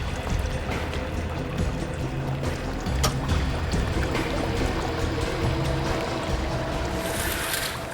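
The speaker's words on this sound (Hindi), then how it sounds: "पानी बहने की आवाज आ रही है।" Water flowing steadily in a forest setting, a continuous broadband rush filling the whole stretch with no one speaking over it.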